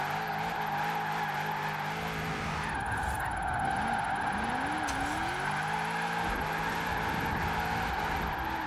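A car drifts in Forza Horizon 4, its engine droning steadily while the tyres squeal in long rising and falling slides, loud and continuous with no talk over it.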